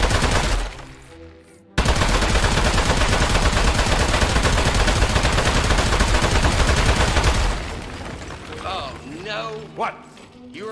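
Sustained rapid gunfire blasts at a clay robot in the game Aperture Desk Job, a loud, dense automatic stream lasting several seconds before cutting off, followed by a voice speaking.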